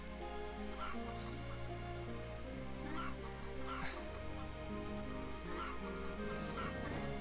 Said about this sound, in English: Can't take the chickens in here.